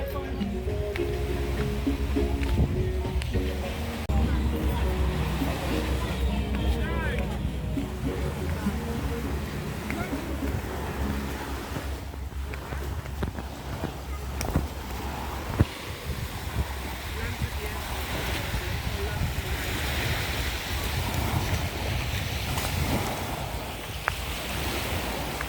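Waves roll in at a beach shoreline on a calm, sunny day, a steady broad wash of surf with some wind buffeting the microphone throughout.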